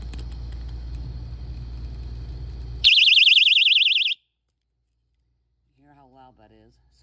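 A personal safety alarm blares a loud, piercing warbling shriek for just over a second, cutting in after low rumbling noise and followed by silence, then a faint voice.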